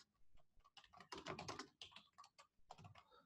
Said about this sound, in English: I think you will be hearing me typing things.